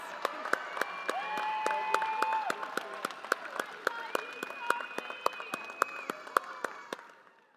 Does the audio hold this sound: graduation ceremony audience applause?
yes